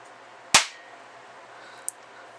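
A single sharp, loud crack of a miniature revolver, the world's smallest, firing, quickly fading, followed by a faint click.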